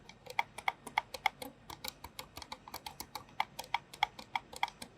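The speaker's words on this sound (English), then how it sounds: "We do have silent buttons here, and they are a bit noisy and a bit rubbery on this mouse" Rapid, light clicks from the rubbery silent buttons of an Amkette XS Flow mouse, a quick uneven run of soft taps close by and quiet, with no talking.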